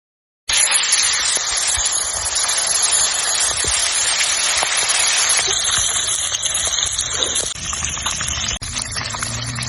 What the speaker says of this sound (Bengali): কড়াইয়ে তেল গরম হয়ে গেছে, এবার আমি মাছটা ছেড়ে দিচ্ছি।